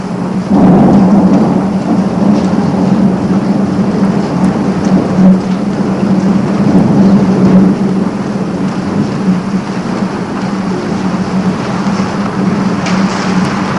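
Heavy rain pours steadily over a low, continuous rumble of thunder, a dense and loud storm bed lasting throughout with no voices.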